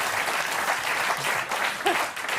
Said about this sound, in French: On applaudit, bravo Jean-Luc.